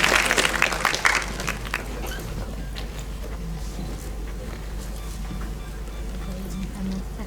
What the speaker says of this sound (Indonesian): Boleh kita berikan tepuk tangan yang paling meriah untuk Mas Rifki.